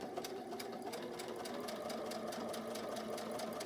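Sewing machine back tacking along the folded edge of a fabric face mask, a faint steady run of rapid needle strokes with an even, regular rhythm.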